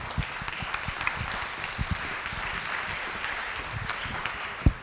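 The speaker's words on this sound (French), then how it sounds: "je crois qu'on peut applaudir Marie" A conference audience at a regional economics gathering in Granville applauds, a fairly soft, steady wash of clapping with a few sharper individual claps standing out and a louder one near the end.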